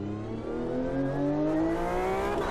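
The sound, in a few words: Porsche 911 engine in the video game Automobilista 2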